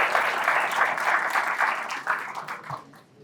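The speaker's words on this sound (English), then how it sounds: "So please, a round of applause." A campus audience at a talk gives a speaker a round of applause, a dense, steady wash of clapping that fades out over about three seconds.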